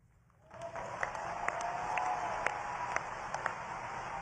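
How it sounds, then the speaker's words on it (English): A debate audience breaks into applause a beat late, rising from quiet into sustained crowd clapping with scattered sharper claps, moderately distant and steady throughout. "That was a delayed clap."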